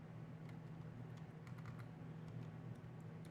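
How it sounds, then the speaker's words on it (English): Someone typing a command on a computer keyboard in a Linux terminal, a steady run of quick, light key clicks over a constant low hum, with no talking. "I'm going to type open SSL"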